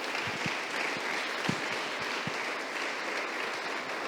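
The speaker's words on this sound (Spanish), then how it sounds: "Denle un aplauso al Señor" Congregation applauding during a Sunday church service, a steady wash of many hands clapping through the whole stretch, moderately loud and fairly distant, with no talk over it.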